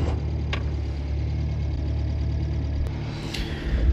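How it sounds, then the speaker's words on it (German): A Renault R4 engine runs steadily at idle, a low rumbling drone close by with a couple of brief clicks and a slight rise in revs toward the end. "der Motor springt ganz hervorragend an. Das ist schon mal ein gutes Zeichen, der läuft auch echt solide"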